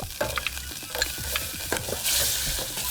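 Chopped onions frying and being stirred in melted butter in a pan, a close soft sizzle with scraping stir strokes, no talking.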